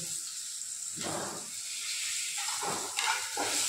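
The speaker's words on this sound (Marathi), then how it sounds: "हे छान परतून घ्यायचं" Tomatoes with curry leaves and coriander sauté in a pan for a leftover bhakri chivda, giving a steady soft sizzle with a few louder stirring bursts near the end, no voices.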